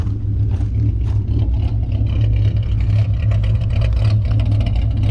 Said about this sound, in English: All right, so we got the idle chop a little bit going on.